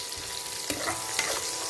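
Onions sauté in a pan for a green bean and pumpkin dish, giving a dense, close hiss of frying broken by a couple of quick stirring scrapes, brief and without speech.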